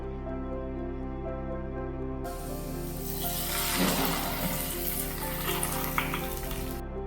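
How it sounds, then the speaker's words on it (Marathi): Hot tadka tempering is poured over aloo chilli and erupts into a loud, steady sizzle after a quiet start. The sizzle crackles for several seconds and then cuts off, with no voices. "हा तडका जो आहे तो आपण त्याच्यावर घालूया"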